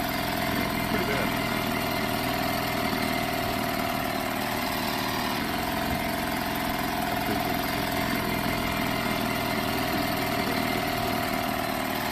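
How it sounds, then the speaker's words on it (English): Boat engine in a video game drones loudly and steadily throughout, an unbroken mid-pitched motor roar with no pauses or changes in pace. "Hold on, this boat's very loud."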